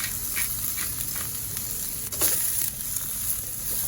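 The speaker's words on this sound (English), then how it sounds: "saute some onions and garlic just like this" Onions, garlic and cabbage sizzling steadily in a hot pan, a constant close frying hiss with occasional stirring scrapes, no talking.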